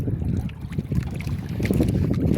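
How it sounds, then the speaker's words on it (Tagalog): Steady low rumbling of very strong wind buffets the microphone throughout, with a faint watery wash underneath and no voices, by the sea. "Sobrang lakas ng hangin"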